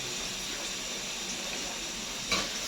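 A large batch of onions frying in a pan gives a steady, close sizzling hiss, with a brief clatter near the end.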